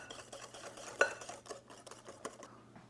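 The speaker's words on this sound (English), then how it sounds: "give that a good whisk until it's all combined and smooth" A whisk scrapes and taps around a bowl as sunflower oil is beaten into carrot cake cupcake batter, quiet and close, with soft irregular clinks against the bowl.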